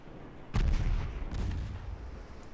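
Heavy naval guns boom in a Ultimate Admiral Dreadnoughts sea battle during an Ottoman campaign, two deep thudding blasts a second apart with long rumbling tails, loud and close, no speech over them.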